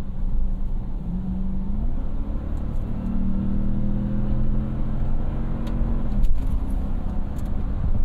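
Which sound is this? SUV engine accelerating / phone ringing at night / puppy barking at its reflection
SUV engine accelerating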